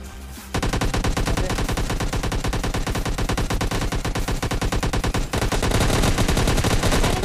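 Automatic gunfire in the mobile game PUBG Mobile Lite: a loud, continuous stream of rapid, evenly spaced shots that runs almost the whole time with only a brief break, with no talking.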